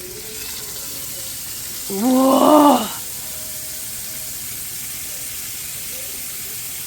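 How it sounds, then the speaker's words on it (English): Food sizzles in a cast iron pan with a steady, even hiss that runs throughout. One person briefly exclaims partway through. "Oh, the sizzle. There's a sizzle video."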